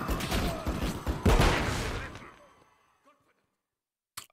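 A flashbang grenade goes off in Modern Warfare 3, a loud, dense burst of blast noise and gunfire that swells again at one point, then rings out and fades over about two seconds before a short faint knock near the end.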